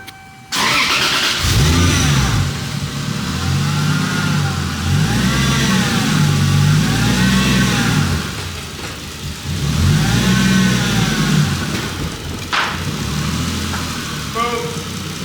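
A car engine, warmed up after its drivetrain was reassembled, starts and revs repeatedly with rising and falling pitch, loud and close, settling toward idle between revs, with people talking at times.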